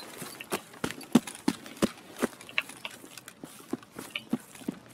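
Quick, light video game footfalls patter in an uneven running rhythm, fairly close, with no talking over them.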